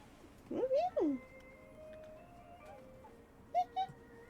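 A pet cat meows twice close by, drawn-out and rising, then gives two brief softer chirps a few seconds later against a quiet indoor background.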